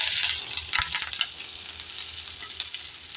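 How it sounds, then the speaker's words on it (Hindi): Chopped onion and green chilli frying in a pan for restaurant-style dal, a steady crackling sizzle with a few quick stirring scrapes early on, then a calmer continuous fry. "अब प्याज को नरम करेंगे, सॉफ्ट करेंगे"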